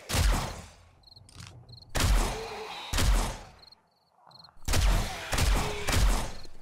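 Heavy Magnum revolver shots fired in the zombie survival game 7 Days to Die, four loud booming blasts spaced about a second apart, each trailing into a short decay, with faint high chirping ambience in the gaps.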